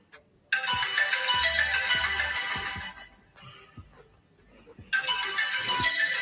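A phone ringtone plays loudly from a played recording, sounding steadily for a few seconds, dropping out briefly, then ringing again at the end.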